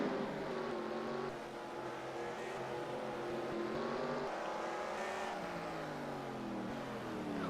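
Stock cars roar around Sonoma in NASCAR Racing 2003, a dense, continuous blend of several engines at high revs, pitch rising and falling as they shift and pass, steady and loud throughout with no talk.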